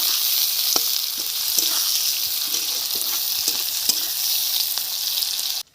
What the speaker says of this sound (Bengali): জিরে ফোড়ন দিলাম, পেঁয়াজটা দিয়ে দিচ্ছি।